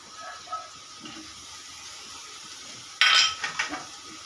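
A spatula stirs paneer, green chili and grated carrot filling in a pan for egg rolls, with faint scrapes and light clinks early and a louder burst of metallic scraping and clattering near the end.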